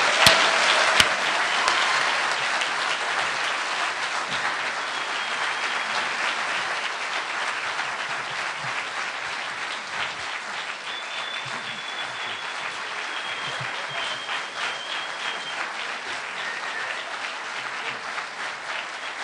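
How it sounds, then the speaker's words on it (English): A lecture hall audience applauds to welcome the chief legal counsel of the Southern Poverty Law Center, a loud, dense burst of clapping that starts strongly and holds steady for the full stretch with no talking. "please welcome with a huge applause for Morris Dees"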